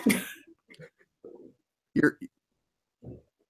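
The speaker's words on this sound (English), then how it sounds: "Excuse me. I got the cough that you had earlier." A couple of short, throaty coughs close to the mic, mixed with brief voice sounds and pauses in a quiet room.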